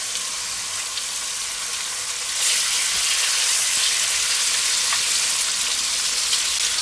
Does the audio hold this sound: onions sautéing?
yes